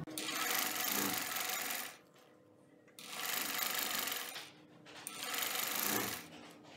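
A sewing machine stitches elastic onto a baby top in three loud, steady bursts, each about two seconds long, separated by short pauses of near quiet.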